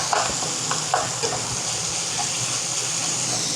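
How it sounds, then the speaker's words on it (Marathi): Onion is stir-fried in a pan over high heat, giving a loud, steady sizzle with a few scraping stirs near the start, close by and without talk. "कांदा पण आपण ह्याच्यावर परतून घ्यायचा आहे, एकसारखं हलवत राहायचं याला, कांदा असा परतून घ्यायचा"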